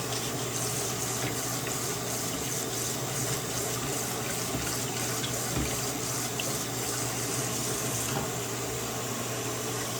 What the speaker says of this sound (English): Fill the sink up a little bit.